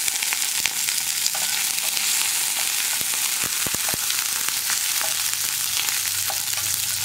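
Urad dal and a sprig of curry leaves frying in hot oil while being stirred, a steady dense sizzle with scattered clicks of a spoon scraping the pan throughout, close and continuous with no talking.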